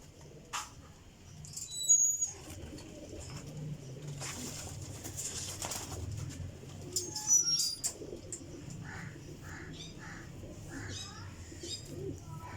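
Pigeons about a year old, kept as champion flying birds, coo softly in a loft, with intermittent chirps and faint background voices over a low steady hum.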